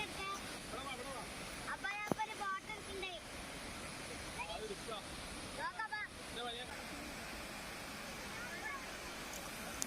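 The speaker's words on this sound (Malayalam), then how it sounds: "ആ റോഡിൻ്റെ ആ ഭാഗത്തുനിന്ന് വെള്ളം താഴേക്ക് പതിക്കുകയാണ് ചെയ്യുന്നത്" Water at Ayyappanov waterfall spills from beside a road roughly ten metres onto rocks, making a steady broadband rush throughout, with voices and faint chatter over it.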